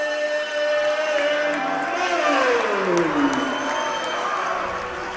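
A packed high school basketball gym at Scott High versus Seymour, stands full on both sides and standing room only, fills with a steady roar of crowd noise and cheering, with a voice running over it.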